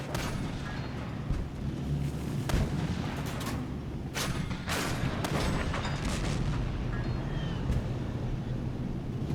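Tank cannon fire in a video game booms repeatedly at irregular intervals over a constant low engine rumble, with sharp blasts standing out above the steady drone.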